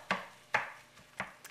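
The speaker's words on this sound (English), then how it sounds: "And this is a new utensil specifically made just for chopping hamburger?" A meat chopper utensil breaks up hamburger meat browning in a skillet, giving four sharp scraping chops about half a second apart, close and fairly quiet with no talk.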